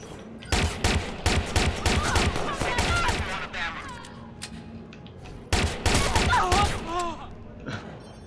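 Rapid bursts of gunfire from Watch Dogs 2, two loud volleys of repeated shots separated by a quieter lull, with some shouting and vocal sounds mixed among the shots.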